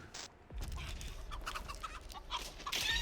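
Chickens cluck in bursts in a farm setting in the Texas Chain Saw Massacre video game, over a steady low background rumble, fairly close and moderately loud, with no talking.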